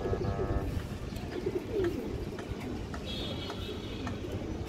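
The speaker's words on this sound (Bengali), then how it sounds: "পাল্লা লাইনের কবুতর" Pigeons in a flock of racing-line birds coo in short soft bursts close by, with faint chirps over low background noise.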